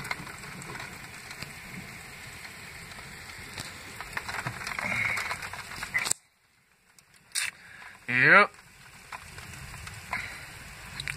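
Steady rain falls outdoors near a house, a soft continuous hiss that cuts out abruptly for about two seconds, then returns with a short louder burst and carries on.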